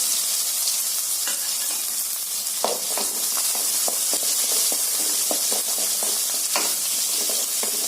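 Mustard seeds, cumin, urad dal, chopped shallots and garlic frying in hot oil for a spinach poriyal, a steady loud sizzle with scattered sharp pops and crackles throughout, no talking.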